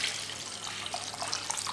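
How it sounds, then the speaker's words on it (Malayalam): Water poured into a pot of Kerala red fish curry (meen mulakittathu), using rinse water from the dishes; a steady, close running splash holds for the whole short moment with no talk over it. "ഈ കറിക്ക് ആവശ്യമായ വെള്ളം ഒഴിച്ചു കൊടുക്കാം"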